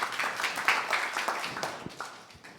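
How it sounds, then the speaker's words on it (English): A studio audience claps in a moderate round of applause, dense at first and then thinning and fading over a couple of seconds. "Round of applause for both of those questions."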